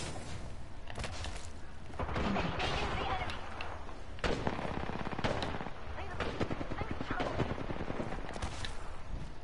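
Automatic weapon fire from an Apex Legends match, dense rapid bursts of shots sustained through the whole stretch with heavier booms mixed in, loud and continuous while voices talk over the battle.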